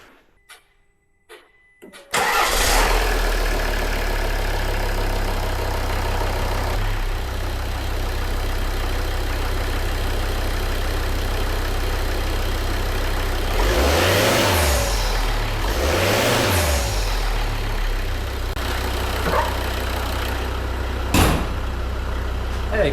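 Volvo V70 D3 diesel with a split turbo boost hose: quiet clicks, then the engine cranks, catches and settles into a steady loud idle, with two sharp revs near the middle and a brief knock near the end.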